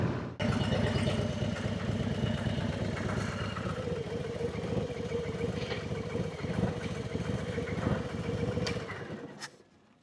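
A Harley-Davidson Low Rider S motorcycle engine rumbles steadily at cruising speed while riding, a deep continuous throb with rushing wind, before cutting off abruptly near the end.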